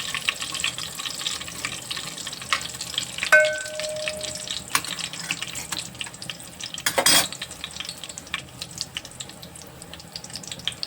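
Cumin seeds fry in hot oil while lentil pulao is being made, a steady close crackling sizzle running throughout with a brief louder burst partway through and faint utensil clinks.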